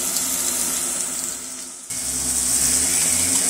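Onions frying in hot fat in a pot, a steady close sizzle with a brief dip in the middle before the hiss picks back up.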